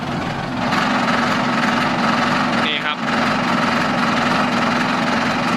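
Engine of a used farm tractor with about 8000 hours on it, running loud and steady close by with a rough droning rumble that barely dips, while someone speaks briefly over it.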